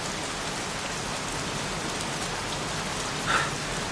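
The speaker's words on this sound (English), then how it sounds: "Goddamn rain, soaking wet." Heavy rain pours down in the video game Heavy Rain, a dense, steady hiss of drops on surfaces with a brief louder splash near the end and no voices.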